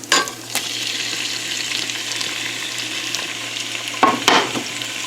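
Meat fries in a pan with garlic and pepper for fried rice, a constant near sizzle with sharp utensil clatters at the start and again around the four-second mark, with no speech.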